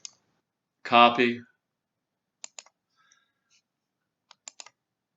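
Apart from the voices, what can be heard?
computer mouse right-click and keyboard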